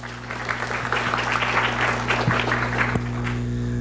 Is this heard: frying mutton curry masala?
no